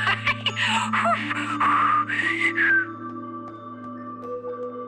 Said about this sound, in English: You call that whistling?